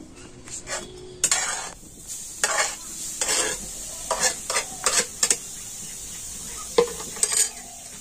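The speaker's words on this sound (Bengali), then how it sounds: "তো এবার আমি কড়াতে কুড়ানো নারকেলটা দিয়ে দিচ্ছি" Grated coconut goes into a hot wok and is stirred, giving a run of short scraping, rustling bursts of utensil against the pan with a light sizzle, close by and with no talk.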